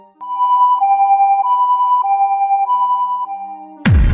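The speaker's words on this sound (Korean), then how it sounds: "구급차는 위급 환자인 엄마와 저를 태우고 병원으로 출발했어요" An ambulance siren wails loudly in a steady two-tone pattern while the ambulance carries an emergency patient through heavy rush-hour traffic, cycling evenly, then a sudden harsh burst cuts in at the end.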